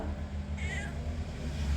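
A cat gives a single short meow up close, set against a low steady hum of background noise.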